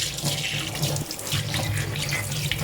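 Tap water runs into a sink as hands are washed after grinding chilies, a steady close splashing stream lasting a couple of seconds.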